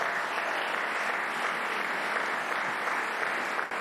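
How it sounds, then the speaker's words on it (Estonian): An audience applauds, a dense, sustained wash of clapping from many hands that holds steady at a fairly loud level and then briefly dips near the end. "Ma mõtlen, et see mees väärib tõesti aplausi."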